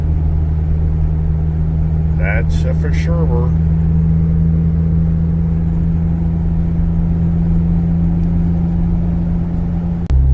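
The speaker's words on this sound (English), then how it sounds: "this little truck does get up the road and does what it's got to do" Small truck climbing a road in Colorado, a steady, loud, low engine drone running nearly the whole time, with a man's brief speech over it and a shift in tone at the very end.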